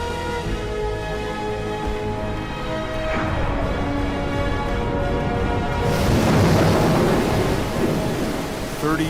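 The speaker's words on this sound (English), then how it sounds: "a ship heads into a storm off the coast of southern Africa" Thunder rumbles through a heavy storm at sea off southern Africa, with steady pouring rain and a louder crashing swell of noise partway through.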